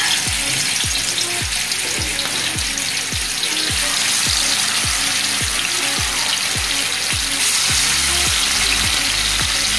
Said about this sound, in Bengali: আমি 4 পিস করে ভাজবো।